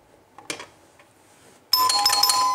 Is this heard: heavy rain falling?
no